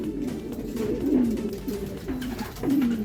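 Racing pigeons coo in a short series of soft, low throaty calls, repeated at uneven intervals over a steady background hum during a sprint race, fairly close and with no talking.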